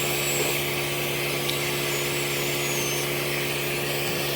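A white drill brush spins against cloth upholstery in a dirty car interior, a steady whirring motor hum with a constant scrubbing hiss, unbroken throughout.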